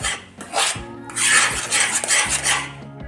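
Khoya roasting in a pan over a medium flame for khoya til laddu, with a utensil scraping and clinking against the metal in steady repeated strokes, close and fairly loud, no voices.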